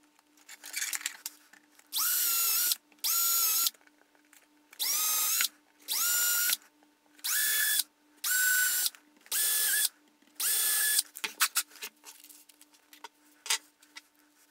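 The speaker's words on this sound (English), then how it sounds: "I'm going to use my drill to draw, to make guides for the screws." A power drill whirs in eight short bursts of roughly equal length, close and loud, with brief pauses and small clicks between them, drilling guide holes for screws.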